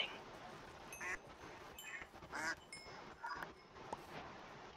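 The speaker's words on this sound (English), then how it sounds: "The ducks are also here." Ducks quacking in the Minecraft video game, Better Minecraft Fabric 1.19 survival, with several short quacks at an irregular rhythm over steady game background noise.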